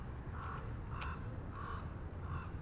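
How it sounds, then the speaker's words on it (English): A raven calls outdoors, four hoarse, croaking caws spaced about half a second apart, moderately distant over a steady hiss of background noise, with no talking. "What a loud raven, huh?"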